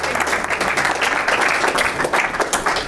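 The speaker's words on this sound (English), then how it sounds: "Round of applause." An audience at a business keynote talk claps in a brief, fairly loud burst of applause lasting a few seconds.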